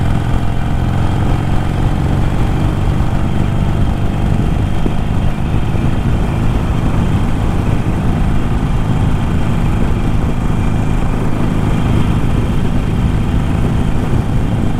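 Harley-Davidson Iron 883 motorcycle cruising steadily in fifth gear on a highway, a continuous loud engine drone with constant rumble and wind noise throughout, no talk.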